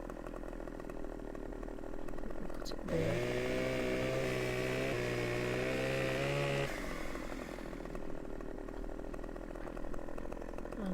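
A virtual chainsaw in Farming Simulator 2015 runs in a forestry setting, with a steady buzzing engine drone that revs up to a louder, higher whine for a few seconds and then drops back. A voice speaks briefly.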